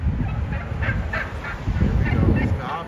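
Turkeys gobble outdoors near a construction area in Minneapolis, Minnesota, a series of short rattling calls repeated over steady background rumble, fairly close and loud.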